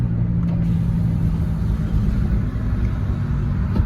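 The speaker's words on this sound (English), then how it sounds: "Right now I'm just taking my time driving home. You see I'm in second gear." A 2004 Chevy Trailblazer with a gear fault driving along in second gear, a steady close low engine rumble with road noise, loud and continuous with no talking.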